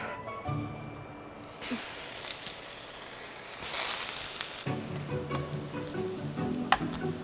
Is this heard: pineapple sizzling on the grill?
yes